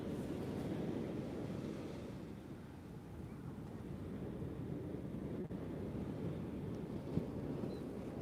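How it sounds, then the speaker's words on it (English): Strong, blustery southerly wind of about 28 to 30 miles per hour roars steadily at an ocean beach at night, buffeting the microphone over the broad wash of surf, with no voices. "I think we got like 28, 30 mile an hour winds."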